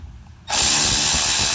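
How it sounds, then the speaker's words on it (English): A pneumatic air ratchet kicks in after a brief quiet moment and runs steadily at high volume, driving the brake caliper bolts on the rear brakes of a 2008 Lexus ES350, with no voices over it. "Air ratchet."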